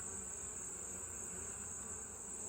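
Honeybees humming steadily during a hive inspection, a dense, continuous buzz with no breaks, fairly faint, no voices.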